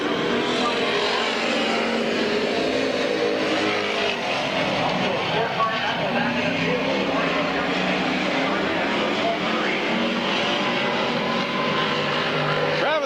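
Race cars roaring around the Midvale Speedway oval in a steady, dense engine drone that fills the whole stretch, with an announcer calling the race over it.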